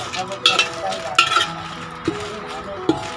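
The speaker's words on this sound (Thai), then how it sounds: "ทอดด้วยไฟอ่อนๆนะครับ" Chili curry paste with a splash of fish sauce fries in a pan over low heat, giving a soft steady sizzle broken by several sharp scrapes and clinks of a utensil stirring against the pan, with a low voice faintly underneath.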